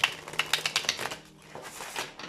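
A deck of tarot cards is shuffled by hand in a quick run of crisp, clicking riffles at close range, easing into a softer fluttering tail.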